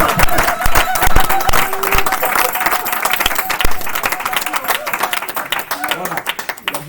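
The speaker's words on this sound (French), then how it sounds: "On peut acclamer tes fois pour Jésus" A church congregation claps and applauds for Jesus, with dense, steady hand claps and crowd noise filling the room at close range for the whole stretch.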